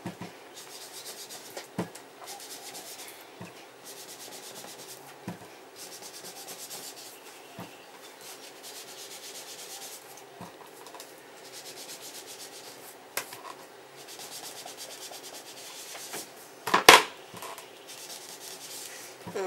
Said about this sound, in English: sponge the edge like this so the artichoke gets a little bit deeper on the edges